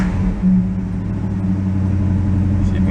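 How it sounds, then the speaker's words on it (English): A 1967 Plymouth's engine runs close by with a steady mid-range hum and a drawn-out belt squeal layered over it, continuous and fairly loud. "Other than the belt squealing, trying to charge the battery back up."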